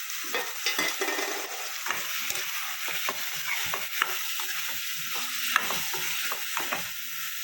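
Cucumber pieces fry in a tomato curry while a spoon stirs them, giving repeated close scraping strokes over a soft, continuous sizzle.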